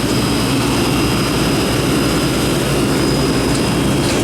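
A refrigeration unit's fan blows a loud, constant roar of rushing air that stays broad and unchanging throughout, with a faint steady whine above it.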